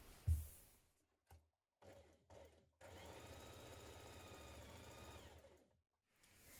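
A sewing machine stitches the short edge of a sweater band in one steady, fairly quiet run of about three seconds, preceded by a few brief clicks and handling noises.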